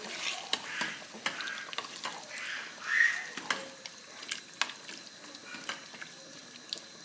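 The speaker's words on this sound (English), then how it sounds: "And now I'm gonna mix it." Lamb and runner bean stew is stirred in a pot over medium heat, a spoon scraping and knocking in irregular soft clatters over a faint simmering hiss, with no voices.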